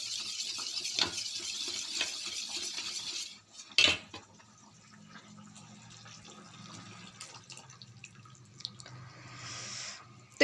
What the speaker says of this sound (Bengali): মিশ্রণটাকে একটু ঘুলিয়ে নেব, ঘুলিয়ে নিয়ে ওটা দিয়ে দেবো।